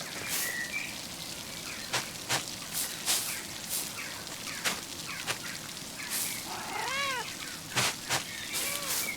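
Cat meowing in the medieval video game Pentiment, several rising-and-falling meows in the second half over a soft rain-like background, fairly close and moderately loud, with no talking.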